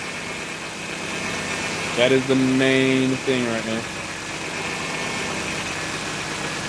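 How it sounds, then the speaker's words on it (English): A Nissan Maxima with a newly installed engine idles with power steering noise, a steady close mechanical drone throughout, while someone speaks briefly over it in the middle. "see the noise starts to subside with the power steering."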